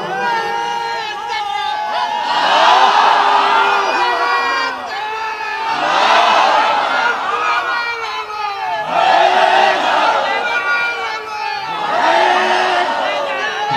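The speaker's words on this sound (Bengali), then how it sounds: "দেখি একজন তাকবীর দিবেন, পুরা মাঠ প্রকম্পিত" A large crowd gathered on an open field roars a takbir in unison, four loud swelling shouts rising and fading in a steady call-and-response rhythm, filling the whole space.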